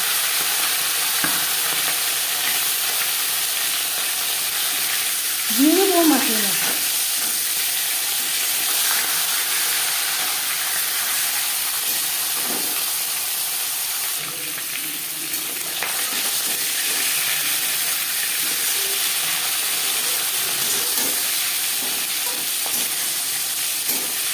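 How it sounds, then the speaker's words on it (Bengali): Fish heads frying in a few spoonfuls of hot refined oil give a steady, close sizzle and crackle throughout, with a brief higher squeak partway in and no talking. "সবার প্রথমে মাছের মাথা ভেজে নেব চার পাঁচ চামচ রিফাইন্ড অয়েল গরম করে নিয়েছি"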